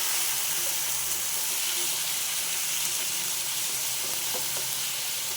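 Chopped tomatoes fry in a pan with a loud, even hissing sizzle and faint stirring scrapes underneath, with no voices.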